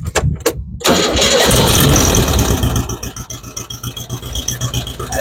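A 1961 Volkswagen Beetle engine cranks briefly, catches and roars loudly, then settles into a steady, slightly uneven idle close by, with no talking over it.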